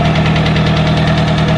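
A Mahindra 475 tractor engine pulling hard, a loud, dense diesel roar with a rapid knocking pulse, close and continuous with no voices.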